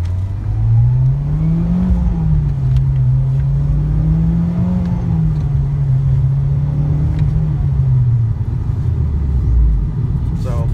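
A Mitsubishi Lancer Evo X pulls away from a stop at half throttle, its engine rumbling up in pitch, dropping briefly at a shift, then holding a steady, close drone before settling near the end.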